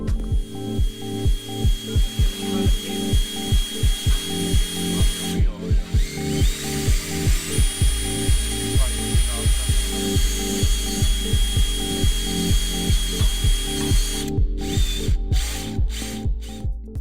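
A console-remote-controlled CNC machine runs with a steady mechanical whir and a fast, regular ratcheting clatter, loud and close throughout with no talk.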